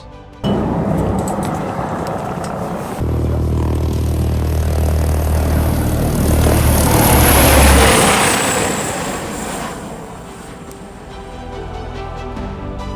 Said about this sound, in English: we witnessed a helicopter rescue